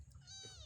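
A kitten or cat gives a single short, faint meow nearby, kept alongside chickens and chicks.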